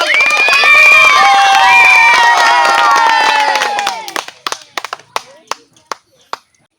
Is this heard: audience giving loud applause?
yes